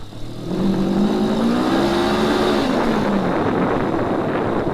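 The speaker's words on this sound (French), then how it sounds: "Voilà, une belle accélération, l'arrière qui tourne" Suzuki GSE 500 motorcycle accelerating on a snowy, icy track, its engine loud and close with a rising pitch that climbs steadily and then eases off.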